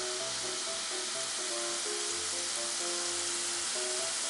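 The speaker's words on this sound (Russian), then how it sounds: "И вот так вот они обжариваются" Steady, loud sizzling of chak-chak dough pieces frying in hot oil, a continuous crackling hiss with faint tonal whistles, no talking.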